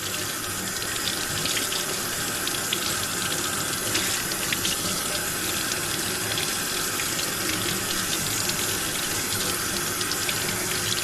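Cold tap water running steadily into a sink while a fish fillet of fluke is rinsed, a continuous close splashing gush with no pauses and no voices.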